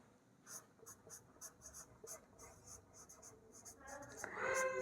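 Chalk or marker strokes scratch across a board in a quick series of short, close taps and scrawls during a linear algebra lecture, with a voice beginning to talk at the end.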